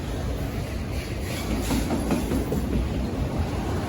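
A CSX freight train passing close by at Bear Mountain, its railcars making a steady, loud rumbling roar with faint wheel clatter.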